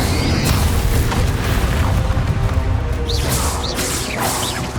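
A fire spell bursts out in a Hogwarts Legacy battle as a loud, sustained booming roar of flame and magic, with several whooshing swells and crackling bursts layered over dense rumbling combat noise.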